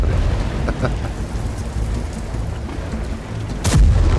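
Rain hisses steadily in a World of Tanks-style battle game, with a brief sharp crack near the end that could be a thunderclap or a gun blast.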